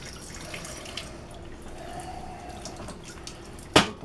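Water from a kitchen tap runs over fresh vegetables being rinsed, a soft steady trickle with light drips, ending in a brief sharp clatter.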